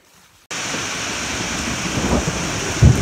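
Heavy tropical rain and a rolling thunderstorm at a rainforest camp in eastern Panama, a loud dense roar that starts suddenly and keeps up steadily, with low thunder rumbles swelling near the end.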